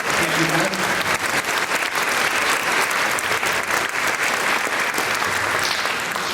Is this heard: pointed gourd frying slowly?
no